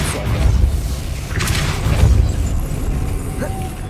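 The Depulso spell is cast in the video game Hogwarts Legacy, giving a whooshing blast with a soft boom under ongoing game ambience and a brief swish midway.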